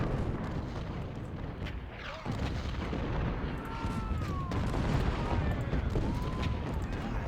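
Civil War artillery in Ultimate General: Civil War at Gettysburg, a continuous barrage of booming cannon fire and musketry rumbling over several seconds, with a few sharp reports and some whistling trails.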